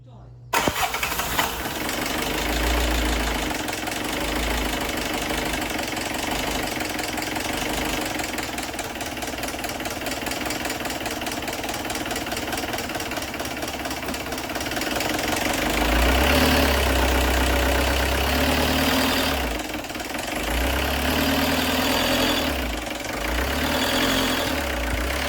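A Peugeot 205 saved from the scrapyard, with a suspected seized pump, is cranked and its engine runs with a loud, rough, steady drone throughout, then revs up in a few surges near the end.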